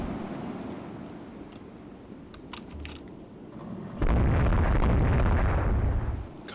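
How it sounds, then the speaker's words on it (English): Warship guns firing in the naval strategy game Rule the Waves 3, a low rumbling boom that swells abruptly into a sustained loud roar after a quieter stretch, with no talk. "Monarch opens fire on the Napoli."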